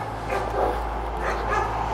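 A trained dog at an animal shelter gives a few short, close yips and whimpers over a low steady hum, with no human talk.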